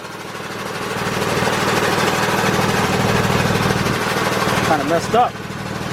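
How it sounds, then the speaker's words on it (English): An air compressor runs steadily in a garage during front axle replacement on a 2006 Kia Sorento LX, a loud continuous droning rumble under a man's brief speech, with a couple of short knocks near the end. "let's shut this compressor off."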